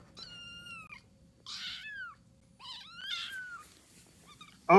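Kittens meowing and yelling in a series of high, drawn-out cries, several separate calls with short pauses between, close and fairly clear over a faint background hum.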